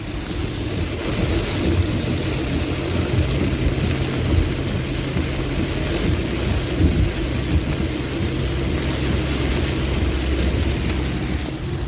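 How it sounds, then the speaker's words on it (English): Heavy rain pours down on a car driving through flooded Queensland roads, a loud continuous hiss and drumming with the low rumble of the vehicle beneath and no talking. "So the rain's picked up again now."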